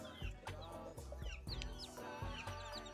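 A mother hen clucks close by in a steady run of short, repeated clucks, with softer chick peeps mixed in and no talking.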